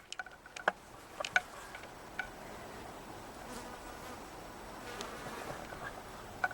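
Bees buzz softly and steadily at a distance among sunflowers, with a few faint clicks near the beginning.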